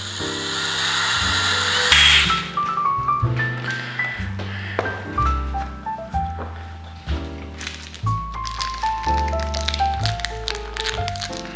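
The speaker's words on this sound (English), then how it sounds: "first thing I'm going to do is drill a couple of holes that I've already laid out" A power drill whirs in repeated bursts, its motor pitch stepping up and down as it bites into material, close and loud.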